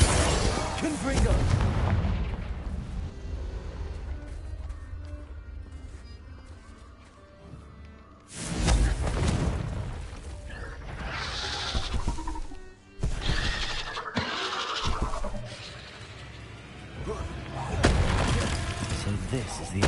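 Loud booming blasts of the Confringo explosive spell in the video game Hogwarts Legacy, several heavy bursts spread across the clip among game sounds, with a voice speaking between them.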